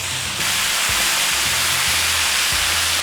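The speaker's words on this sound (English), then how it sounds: "If the pan is heated, then put the meat on the pan." Thinly sliced bulgogi beef laid in a hot pan, sizzling in a loud, steady hiss with a few soft clanks and thumps from handling near the start.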